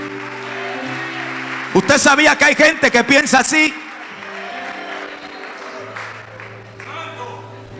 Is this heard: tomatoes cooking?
no